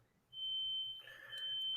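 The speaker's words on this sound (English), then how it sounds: "If they don't turn that alarm off" An arena alarm sounds during a college basketball game between LSU and Auburn, a sustained high electronic tone that holds steady, breaks briefly, then resumes over faint background noise.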